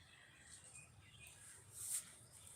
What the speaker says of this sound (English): Under an open heaven as the birds are singing.